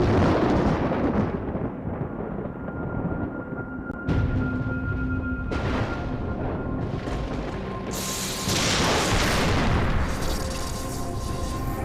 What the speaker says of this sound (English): now we're left with some foreboding music and the crackle of lightning